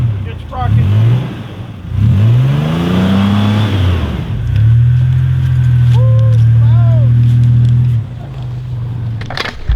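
A stuck truck's engine revs repeatedly, loud and close, in several rising and sustained surges as it is pulled free, with people talking over it.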